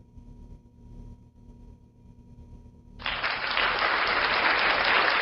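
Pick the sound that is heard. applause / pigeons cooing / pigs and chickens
applause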